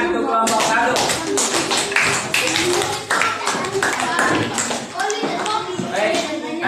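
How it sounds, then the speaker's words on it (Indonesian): Classroom of students clapping for a student group after their presentation, a dense patter of hand claps mixed with chatter and voices throughout, fairly loud and close. "Tepuk tangan untuk kelompok 1."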